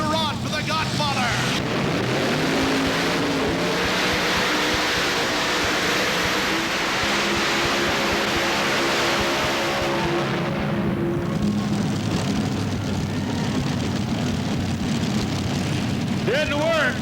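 Pulling tractors with multiple mounted engines roar loudly and steadily at a 1990 tractor pull in the Cow Palace, a dense sustained drone dipping briefly near the end before surging again, with a voice speaking over it.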